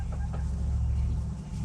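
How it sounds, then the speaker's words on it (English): A backyard rooster kept with miniature chickens crows faintly in the distance, a brief call near the start over a steady low rumble. "the other rooster that you keep on hearing crow, that keeps on crowing,"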